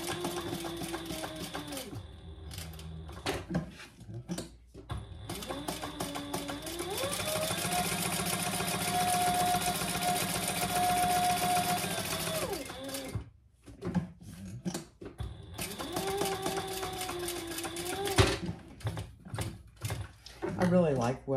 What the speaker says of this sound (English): we're going to stitch on all 3 open sides, just 1/8 of an inch.